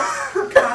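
A short, sharp cough or two in a hospital emergency-room drill for a respiratory patient after an explosion, close and abrupt with a brief gap between bursts.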